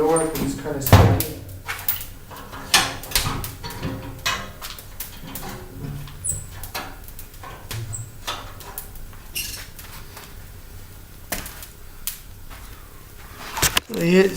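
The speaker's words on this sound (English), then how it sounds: "Shut one door because it's kind of smoky." The door of a smoky wood stove is shut with a clunk, followed by scattered knocks and clatter from handling firewood, while someone talks over it.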